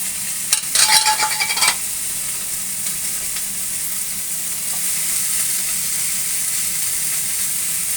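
Prawns and coriander leaves tipped into a frying pan of pointed gourd, a brief loud clatter and crackle as they drop in, then a steady, even sizzle that continues to the end.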